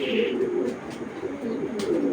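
Soft, low cooing from a large show-quality pigeon held close by, a steady murmuring coo running throughout with no talk over it.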